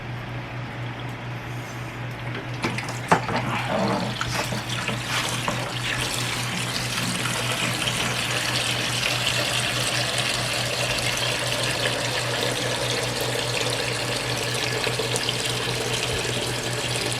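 Steady rushing of running water during an aquarium water change, continuous and fairly loud, with a constant low hum underneath and no voices.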